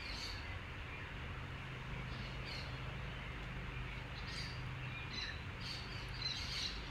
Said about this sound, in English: We love all the sounds of the birds and everything.